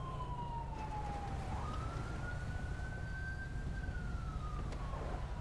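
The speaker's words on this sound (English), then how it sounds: "I hear like an air horn, dual siren shit going on." A distant emergency vehicle siren in a video game wails in slow rising and falling sweeps over a steady low rumble, faint and continuous, with air horn blasts.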